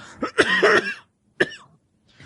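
A burst of close, harsh coughing followed by a shorter single cough, then quiet.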